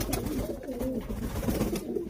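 Pigeons cooing softly and steadily nearby in a loft cage, low rolling coos overlapping in an enclosed space.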